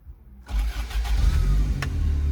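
A first-generation Toyota Hilux fitted with a VW 1.8T 20V engine cranks briefly and fires up, then settles into a loud, steady running rumble close to the listener.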